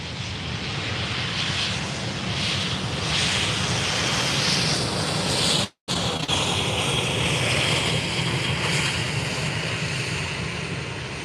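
Jet airliner at Faro Airport, a loud continuous engine roar with broadband rush, steady throughout apart from a very brief dropout midway, no voices.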